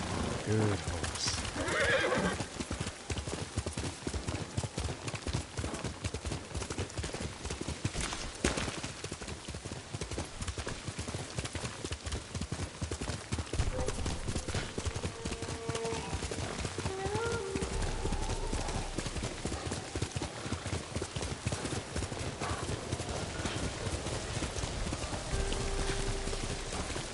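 A horse neighs near the start, then hooves clip-clop steadily on ground for a long stretch, close and fairly loud, with occasional voices in the background.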